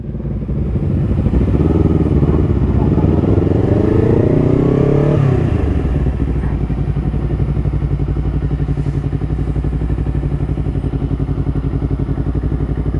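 A heavy motorcycle on a Sunday morning group ride, its engine revving up loudly and then settling into a steady, close, throbbing drone.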